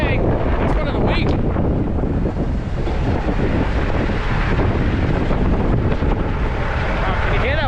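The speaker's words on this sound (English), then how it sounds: "Wow, can you hear that wind?" Strong wind gusts buffet the microphone outdoors beside a truck, a loud steady roar that fills the whole clip with no break.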